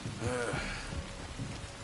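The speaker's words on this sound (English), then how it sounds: "You were right about the damn rain" Steady rain from the video game Red Dead Redemption 2 hisses evenly throughout, with a brief breathy vocal sound near the start.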